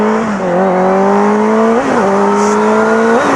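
A Honda CBR1000RR motorcycle accelerates hard from first gear. A loud, steady engine drone rises in pitch, then dips briefly at each gear change and climbs again.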